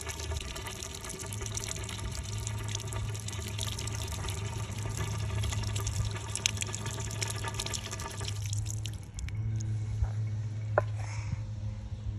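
Tap water runs steadily while strawberries and cherries are washed, a continuous rushing flow with a low hum beneath; the tone shifts partway through as the stream or sink changes.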